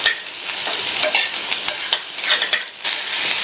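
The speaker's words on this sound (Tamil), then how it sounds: "இந்த பீன்ஸை எண்ணெயிலேயே ஹை ஃப்ளேமில் வச்சு ஒரு 2 நிமிஷத்துக்கு வதக்கிக்கலாம்" Green beans sauté in oil over a high flame, a continuous loud sizzle close by with scraping stirring strokes throughout.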